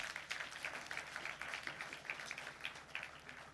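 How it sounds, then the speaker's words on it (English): Audience applause fills a hall during a bell ringing ceremony marking a bank listing on a stock exchange, steady, soft clapping from many hands heard from a distance, with no talking. "That deserves a clap."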